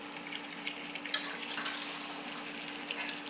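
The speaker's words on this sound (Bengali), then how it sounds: "মুরগি কষানো।" Chicken meat sautés in a pan on an electric stove with cumin and black pepper paste, a steady low sizzle with occasional stirring clinks, close and fairly quiet, with no voices.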